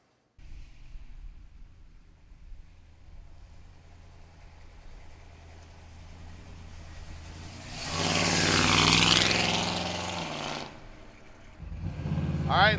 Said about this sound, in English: Sweet sound and exhaust on this baby, 396 under the hood